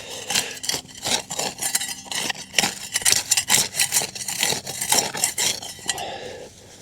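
A flat-bladed tool scrapes and digs through soil around tomato plants, giving a close, steady series of rough, gritty scraping strokes.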